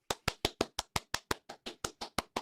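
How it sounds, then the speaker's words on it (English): About a dozen sharp, evenly spaced hand claps, close and alone, a slow deliberate rhythm from a single person rather than a crowd. "Applaud. Applaud your king."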